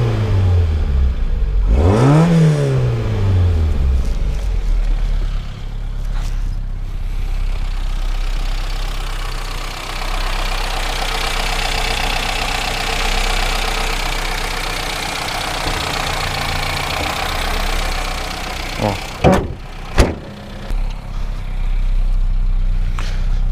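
A Peugeot 205 car engine idles with a rough, steady rumble, revving up sharply near the start and again briefly toward the end, heard close by with no one talking.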